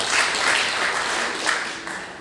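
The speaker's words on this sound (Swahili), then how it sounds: "Makofi mengi sana bwana." A crowd at an album launch event claps together in a dense, steady round of applause, continuing evenly throughout.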